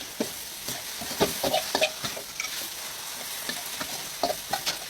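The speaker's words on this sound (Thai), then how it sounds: "ใส่กะเพราลงไปเลิศ ๆผัดให้เข้ากันเลยแก" Wide rice noodles with holy basil being stir-fried in a wok for drunken noodles: a steady sizzle under repeated quick scraping, clattering strokes of the spatula, close and moderately loud.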